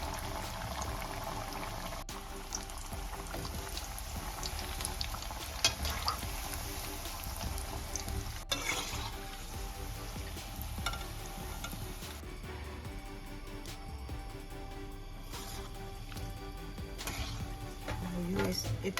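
Hand-made nimki fry in oil in a karai over low heat, a steady close sizzle and bubbling, with intermittent scraping as the pieces are slowly stirred.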